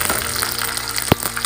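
Onions sizzle in a hot pan at the start of a taro curry, a steady close hiss broken by one sharp click of a utensil.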